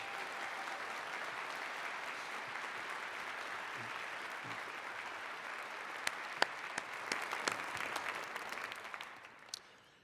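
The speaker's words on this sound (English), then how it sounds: "So how about a nice round of applause of appreciation for Mr." Audience applause after a keyboard recital at a keyboard festival, fairly quiet and distant-sounding, a steady wash of clapping with a few sharper individual claps standing out before it thins and fades away.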